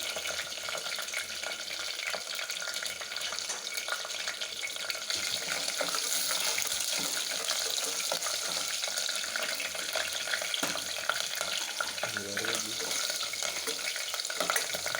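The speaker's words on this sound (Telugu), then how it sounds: "బిర్యానీ ఆకు ఇదంతా వేయాలండి అలాగే తరిగి పెట్టుకున్న నాలుగు పచ్చిమిరపకాయ వేసి ఇవన్నీ వేయించుకోవాలి" Bay leaf and four chopped green chillies frying in oil in a pan, a steady close hiss of sizzling throughout with faint stirring noises.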